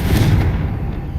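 Confringo fire-blast spell cast in the Hogwarts Legacy video game, a loud booming burst with a low rumbling tail that stays strong across the short moment, with no talking over it.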